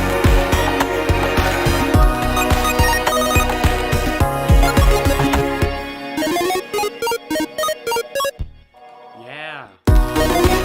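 Orchestral blizzard music composed for the ice biome of the Terraria Spirit Mod, dense layered instruments with rhythmic stabs, then a run of short staccato chords and a brief thinner swelling passage before a full return.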